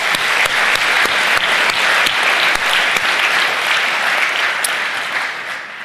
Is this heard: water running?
no